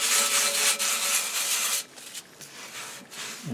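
Rubbing down a motorcycle exhaust pipe with abrasive, a steady loud scraping hiss in long strokes, easing to quieter, sparser rubbing partway through.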